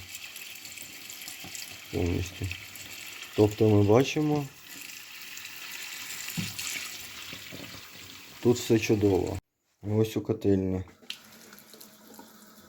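Hot water runs steadily from a tap throughout, a continuous hiss under someone talking intermittently, with a brief moment of silence near the end.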